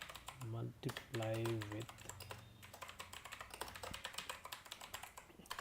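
Clicks of a computer keyboard as test code is typed, a quick, uneven run of taps right up close, with someone speaking briefly over the opening seconds.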